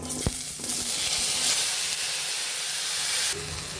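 Cumin and mustard seeds hit hot oil in a pan with dried red chillies, bursting into a loud, steady sizzle that holds for several seconds after a brief clatter at the start, with no talking.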